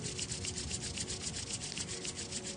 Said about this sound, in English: let us rub the palms of our hands together.